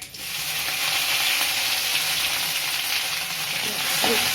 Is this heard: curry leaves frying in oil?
yes